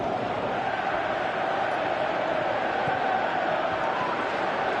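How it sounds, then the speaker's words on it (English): A football stadium crowd at a Chelsea match roars steadily, urging a player to shoot, a dense and continuous wash of voices and cheering at a constant level throughout. "Crowd calling for him to shoot."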